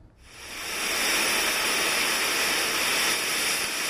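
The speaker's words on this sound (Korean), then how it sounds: "바람소리 들려드릴게요." A recorded wind sound played from an SK Telecom NUGU smart speaker: a constant rushing hiss swells in quickly and holds steady, broad and airy, with no voices.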